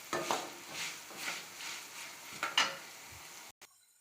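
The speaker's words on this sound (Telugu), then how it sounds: "అలాగే ధనియాలు, ఇవి బాగా ఫ్రై చేసుకోవాలండి." Coriander seeds fry in oil over a medium flame, a soft steady sizzle with periodic stirring scrapes in slow pulses, fairly quiet, before a brief cutoff near the end.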